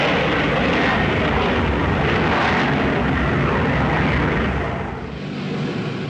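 A Handley Page Victor bomber with four Sapphire jet engines roars steadily and loudly overhead, a broad continuous engine rush that dips slightly near the end.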